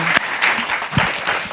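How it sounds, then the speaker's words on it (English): A conference opening-ceremony audience claps together, a dense burst of applause through the whole short stretch with no voices over it. "let's give ourselves a big round of applause"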